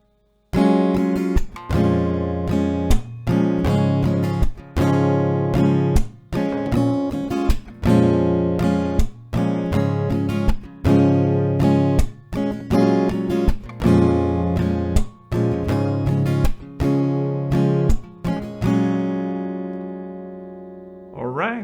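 Acoustic guitar strums a repeating chord progression from a song, steady rhythmic strokes with ringing chords, close and full, looping several times before letting the last chord decay.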